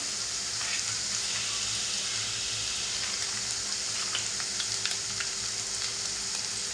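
Ginger paste hits hot oil in a pan for a river clam curry, a loud, dense, continuous sizzle close up with faint stirring clicks and scrapes running through it.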